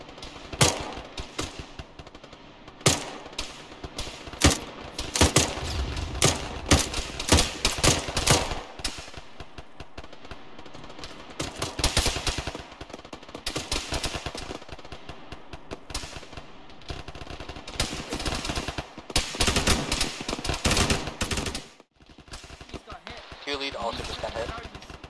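Gunfire in a military video game battle, with repeated loud bursts and single shots scattered through the clip, some near and some farther off, under intermittent talk among players.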